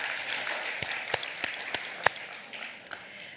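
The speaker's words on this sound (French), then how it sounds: "je pense qu'on peut les applaudir chaleureusement" A small audience claps for eloquence contest finalists. Scattered, distinct hand claps sit over a soft crowd murmur for a few seconds.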